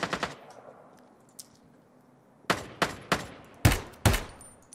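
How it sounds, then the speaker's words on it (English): Gunfire in the battle royale video game Ring of Elysium: a few quick shots at the start, a faint lone pop, then a spaced volley of five or six sharp loud cracks with short tails, fairly close. "There's a shot."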